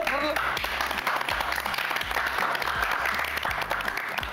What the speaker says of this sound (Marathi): सगळेजण घरात टाळ्या वाजवून आनंद साजरा करतात